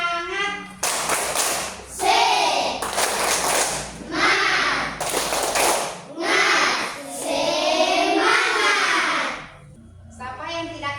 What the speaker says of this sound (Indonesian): Ya, baik, kita beri tepuk tangan.